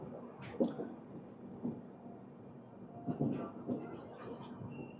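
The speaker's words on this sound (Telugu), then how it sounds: "మన ట్రైన్ అయితే సికింద్రాబాద్ స్టేషన్లోకి అయితే వెళ్ళిపోతుంది" The Rayalaseema Superfast Express rolls along on its run toward Secunderabad station, giving a quiet, steady rumble with a few louder knocks and clatters rising from the track now and then.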